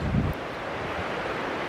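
Water flowing steadily in a quiet outdoor spot in rural New Zealand, a continuous broadband wash with a brief louder rustle at the start, no voices.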